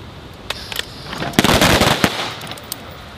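Gunshots crack at a shooting-training range as rounds are fired from the high ready position: a few isolated sharp reports, then a tight cluster of rapid overlapping bangs from several shooters, loud and close.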